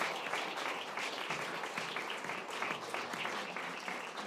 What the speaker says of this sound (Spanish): Muchas gracias, un aplauso para ella.